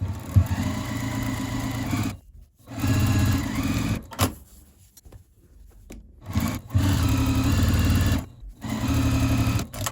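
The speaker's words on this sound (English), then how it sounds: "let's go ahead and take this to the machine and sew that" A sewing machine stitches the lining of a crochet bag in several loud close bursts of rapid whirring, each lasting about two seconds, separated by short quiet pauses and fabric handling, with no voices.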